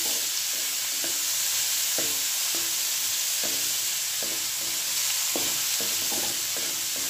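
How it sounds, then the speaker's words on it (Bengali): Vegetables for a mini singara filling, with whole green chilli and no onion, fry steadily in hot oil, a constant close sizzle broken by the short scrape and clack of stirring at irregular intervals. "তেলের মধ্যে ভালো করে সুন্দর করে ভেজে নিতে হবে তরকারিটা"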